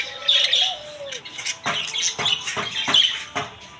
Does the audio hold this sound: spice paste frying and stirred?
no